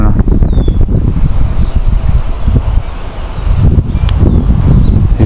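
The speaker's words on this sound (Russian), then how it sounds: "Ветер, конечно, да, тут гуляет нормально." Strong wind on a cycling tour buffets the microphone in heavy, rumbling gusts, loud and continuous with slight lulls, plus faint rustling in the background.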